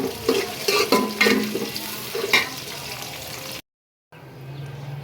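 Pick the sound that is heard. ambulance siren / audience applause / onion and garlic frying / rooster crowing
onion and garlic frying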